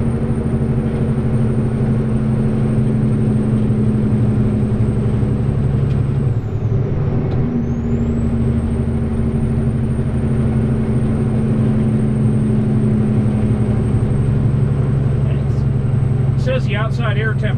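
Komatsu PC360LCi excavator engine labors under load on a hill climb, a steady, loud, droning rumble heard close up throughout, with a brief dip midway and a few light clicks near the end.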